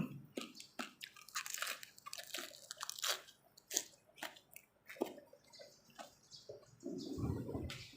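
Close, wet chewing and sharp crunching of seafood som tam papaya salad with shellfish, irregular bites and squishy mouth sounds, quiet and intimate, without talk.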